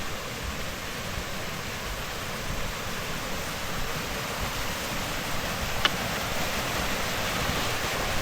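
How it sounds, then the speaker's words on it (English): A small waterfall at Cwm Bychan pours steadily nearby, a constant broadband rush of falling water with no breaks and no voices. "Beautiful little waterfall."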